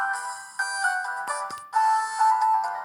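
A short burst of Samsung GT-E1272 ringtone plays on a Newmind F15 flip phone, bright sustained electronic tones with a couple of small clicks, close and clear.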